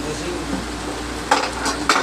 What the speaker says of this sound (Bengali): আলু দিয়ে দিয়েছি, এখন আমি মাংসটা এর মধ্যে দিই